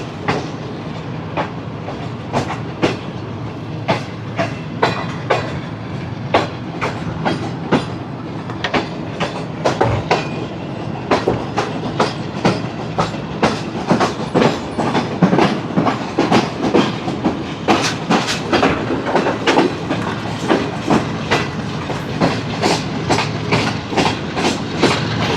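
The Shalimar Express rolls through Kanpur railway station, heard from on board as a loud continuous rumble with rapid clickety-clack wheel beats over the many track joints and points.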